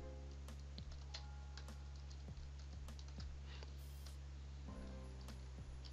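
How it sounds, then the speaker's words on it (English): Typing on a computer keyboard while entering an expense total in an Excel spreadsheet, a few sparse, soft key clicks over a quiet background hum. "So I'm going to type in a total for all of our expenses."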